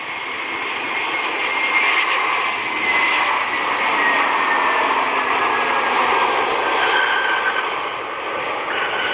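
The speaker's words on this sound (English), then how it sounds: "Frontier 2667 inbound from Orlando." Frontier Airlines jet arriving from Orlando at Cleveland, a loud steady engine roar that swells and holds close by, with a faint whine sliding across it and no voices.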